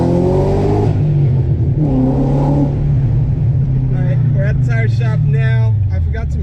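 A BMW 540 E34 with an open differential, spinning donuts in a steady, loud, continuous engine rev that rises and falls throughout, with a voice talking over part of it.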